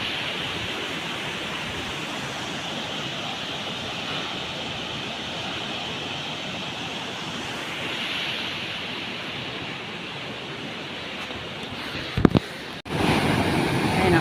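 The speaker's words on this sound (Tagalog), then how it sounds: "Ayan, ang lakas po ng tubig." Strong, rain-swollen brown river water rushes in a continuous broadband roar, loud and close, with a brief clatter near the end.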